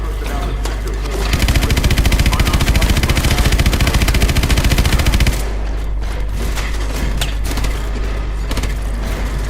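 Loud in-game barrage from Call of Duty Advanced Warfare, with swarm missiles, rockets and a main gun firing in rapid, dense succession for several seconds, then dropping to a rumbling mechanical background with scattered bursts.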